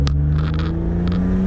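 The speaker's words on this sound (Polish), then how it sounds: "pedał w podłogę." Car engine of a project car with a Chinese turbo, floored at full throttle, revving loudly with a steady low drone and rising tones, alone without talk.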